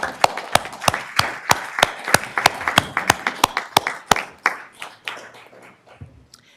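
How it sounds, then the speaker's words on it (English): A small group claps at a Sacramento City Unified School District board meeting, sharp distinct handclaps in a steady run that thins and fades toward the end, with no talk over it. "we'll give you a round of applause"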